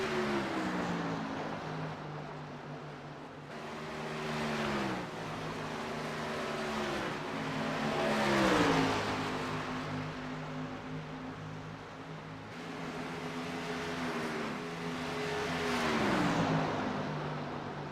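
Race cars roar around a track in a sustained broadcast feed, engine notes rising and falling as they pass in repeated waves, loud and continuous with no talk.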